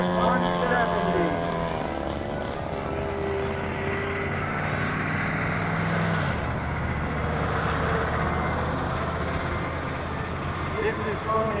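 A 98-pound radio-controlled model airplane with a PMS 170 engine drones steadily at an airshow, its loud buzzing note shifting in pitch as it passes, with people talking faintly underneath.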